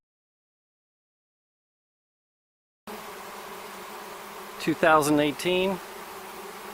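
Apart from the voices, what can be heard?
swarm of honey bees buzzing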